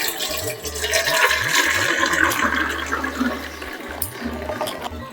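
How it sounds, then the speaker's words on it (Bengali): Water from boiled cabbage pours off into a drain, a steady rushing splash over a low rhythmic thumping in the background, moderately loud and with no talking. "এখন জলটাকে ঝরিয়ে নেব।"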